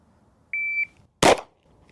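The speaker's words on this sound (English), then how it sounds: "when the timer goes off, I'm just going to come up onto the wall of the trigger and squeeze to the rear." A shot timer emits a single steady electronic beep, followed about half a second later by one sharp, loud pistol shot at a shooting range, with quiet before and after.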